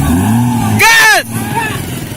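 An offroad vehicle's engine revs hard at full throttle during an extreme offroad event, a loud surging roar that peaks briefly, with people talking and shouting around it.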